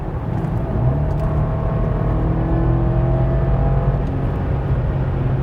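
BMW 750Li xDrive M Sport twin-turbo V8 accelerating hard, a loud, steady, rising engine drone with climbing harmonics held for several seconds, heard from inside the car with no talking.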